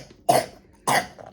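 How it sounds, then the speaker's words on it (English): A child gives two short, sharp coughs, close to the microphone, with a faint throat-clearing sound at the end. "Clear your throat a little bit and speak properly."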